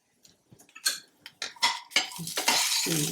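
Peanut chutney ingredients, with tamarind and ginger, frying in a pan, a quick series of close metallic spoon clinks and scrapes that builds into a loud steady sizzle.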